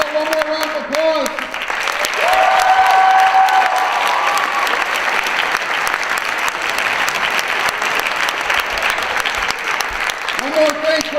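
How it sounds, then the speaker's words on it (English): An audience at the 2013 Armada High School talent show claps loudly and continuously, with cheers and a whistle mixed in, while a voice speaks over the start and end. "How about one more round of applause?"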